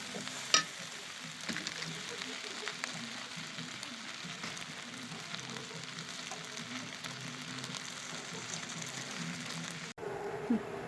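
Kofta fries in a pan on a gas stovetop with a steady, close sizzle and hiss that runs almost unbroken, broken by a brief clatter near the start and a short cut near the end.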